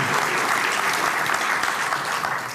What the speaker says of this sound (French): C'est pour ça que je préférais un applaudissement immédiat